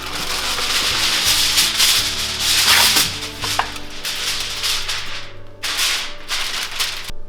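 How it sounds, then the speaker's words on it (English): Aluminum foil crinkles and rustles close up as it is pressed over a baking dish, coming in uneven crackling bursts with brief pauses and no talking. "you're just going to cover it with some aluminum foil"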